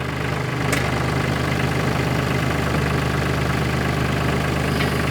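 An old, wet tractor engine idles steadily with a low, rumbling grunt, close and constant throughout with no talk.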